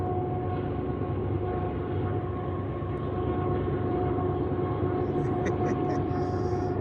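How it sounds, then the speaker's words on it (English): A train rumbles steadily with a constant low drone and hum, holding a continuous rolling noise throughout, with faint high squeals near the end. "I hear the train coming."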